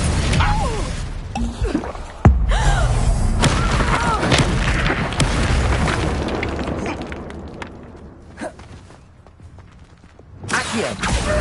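Explosive spell blasts in Hogwarts Legacy on PS5, a dense, loud rumble of booms and thuds with combat clatter, a sharp hit near the start and a swell of impacts at the end.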